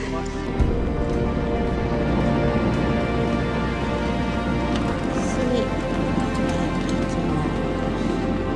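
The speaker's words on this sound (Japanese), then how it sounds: "もうよく雨降ってきたよ" Rain begins falling outdoors at a rural pool-like fishing spot, a steady broadband hiss of drops lasting throughout, with people talking over it.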